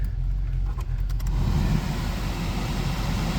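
A 1990 Ford Mustang 7-Up edition engine running at a steady, close purr, a low rumbling idle with a brief faint ticking near the start.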